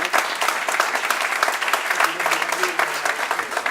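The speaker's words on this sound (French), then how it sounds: "Si vous pouviez applaudir en même temps," Audience in a meeting hall applauding together, a dense continuous patter of many hands clapping at close range, steady in loudness throughout with no voices rising above it.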